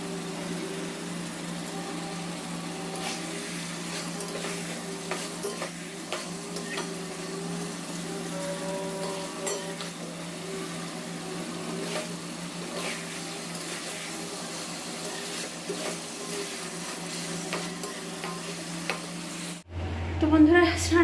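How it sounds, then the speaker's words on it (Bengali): Meat braising in a pan in a home kitchen, a steady low sizzle with scattered scraping and stirring clicks running throughout, then a brief louder clatter at the very end. "এইদিকে দেখো মাংস কষতেও দিয়ে দিয়েছি"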